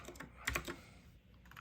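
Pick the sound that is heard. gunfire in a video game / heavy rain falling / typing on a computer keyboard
typing on a computer keyboard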